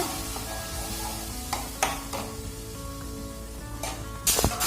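Tempering for a jackfruit gatti dish sizzles in hot oil, a close steady crackle broken by a few sharp clinks of a pan and spoon, with a louder burst near the end.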